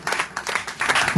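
A congregation claps and applauds at an outdoor youth revival meeting in a village, bursts of hand claps rising and falling over about a second, fairly loud and close, with some crowd noise mixed in.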